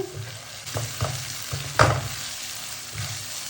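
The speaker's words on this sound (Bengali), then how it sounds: "ধনিয়া পাতার ডাল দিয়ে দিলাম মশলার সাথে খুব সুন্দর করে ডাল কষাবো" Mung dal is sautéed with ground spices in hot oil for a Bengali fish-head dish, a soft steady sizzle broken by a few scraping spatula stirs, one louder clack midway, no voices.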